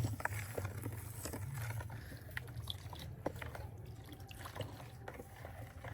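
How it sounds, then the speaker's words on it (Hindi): Sugar stirred into water tinted with pink food colouring for shakar para: soft, faint liquid swishing with light spoon clinks against the vessel, close and steady, with no talking. "और अब इस पानी को अच्छी तरह से मिक्स करेंगे और इस चीनी को इस पानी में अच्छी तरह से हल करेंगे"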